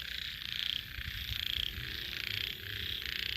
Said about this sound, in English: Frogs everywhere.